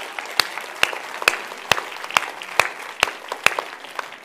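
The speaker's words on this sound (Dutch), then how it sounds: "Echt een groot applaus voor Siep." An audience of children and parents at a university lecture applauding steadily, with a soft patter of clapping punctuated by a regular series of sharp, loud claps.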